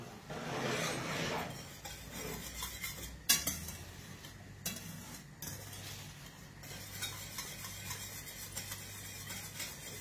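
A metal spoon scraping and clinking in a pan of sauce for roast pork tenderloin, with steady close stirring, a few sharper knocks and clinks, and a soft sizzle underneath.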